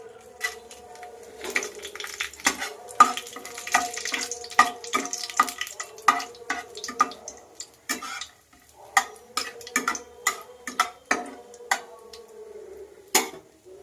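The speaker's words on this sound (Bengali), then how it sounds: "এবার আমি কড়ায় তেল দিয়ে সেটা গরম করে আমি ফোড়ন দেব" Dry red chillies, cinnamon and cardamom tempering in hot oil in a kadai for a Bengali chicken kosha: a busy crackling sizzle with sharp clattering pops and scraping, fairly close, with no voices.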